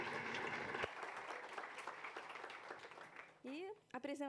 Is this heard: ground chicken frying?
no